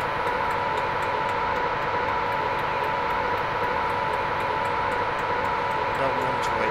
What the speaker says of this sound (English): Please wait for the train to pass.